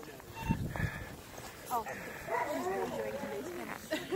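Sled dogs bark and yip in a kennel, a few sharp close barks followed by whiny, rising vocalizations, with a person talking among them.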